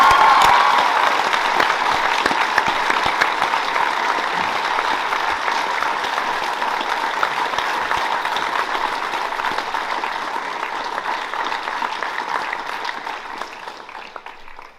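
Sustained audience applause fills a school prizegiving assembly at Aquinas College after the 2022 head girl is announced, a dense, steady clatter of many hands that thins slightly toward the end.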